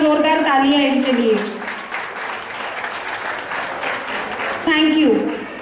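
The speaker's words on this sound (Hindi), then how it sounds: "रश्मि खड़े हो जाइए, एक बार जोरदार तालियां इनके लिए।" An audience at a women's association cultural gathering breaks into applause, a steady crackle of clapping running under a speaker's voice at the beginning and end.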